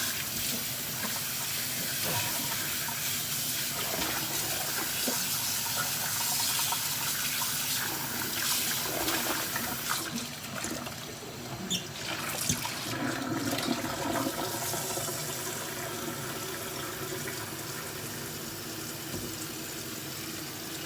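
Squid being rinsed in cold water, a steady stream of running tap water splashing continuously with slight shifts in flow, close by and without talk.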